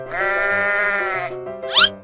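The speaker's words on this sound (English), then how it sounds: "sheep" A sheep gives one long, steady bleat, followed after a brief pause by a short, higher squeaky call, loud and close with a faint low hum beneath.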